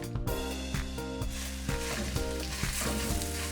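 Black bean patties sizzle loudly and continuously in hot oil in a shallow frying pan, with a few soft knocks and scrapes nearby.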